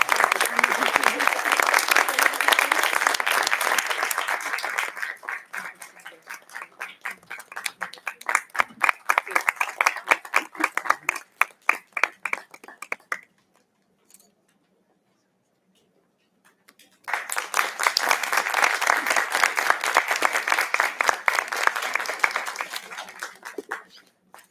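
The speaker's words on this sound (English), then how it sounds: "May I please request for a huge round of applause." An audience at a heritage-management conference gives a round of applause: loud, dense clapping that thins into scattered claps, falls silent for a few seconds, then swells into a second full burst.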